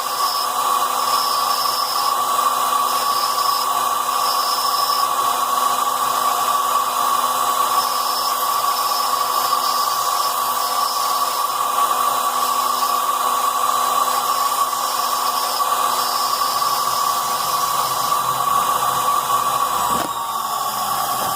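A rotary tool grinds and carves agate stone in a continuous, steady high-pitched whine that holds nearly unbroken for about twenty seconds, then shifts abruptly near the end.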